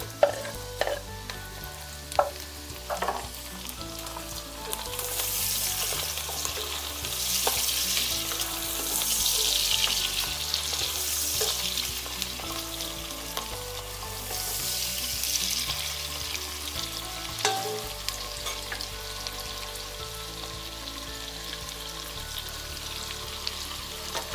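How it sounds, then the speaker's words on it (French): Dried fish and smoked fish fry in a pan with a continuous close sizzle, swelling in hissy bursts, while a utensil scrapes and stirs with scattered clicks and taps. No one speaks. "je laisse bien griller le poisson séché ainsi que le poisson fumé."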